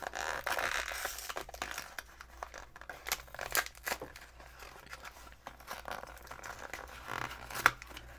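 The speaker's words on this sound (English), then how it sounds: "I think it just needs to be ripped open" Close, quiet crinkling and tearing as a paper-and-plastic packet of English sweets is ripped open by hand, with irregular crackles and sharper rips scattered throughout and no talking.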